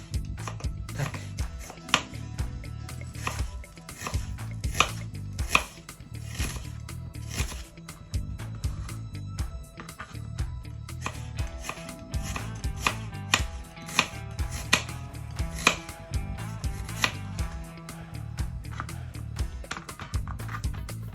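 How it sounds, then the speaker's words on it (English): Onions and chilies are chopped on a board with a knife, fast, steady rhythmic strikes repeating for about twenty seconds, close and crisp. "Then we're going to cut some onions and chilies."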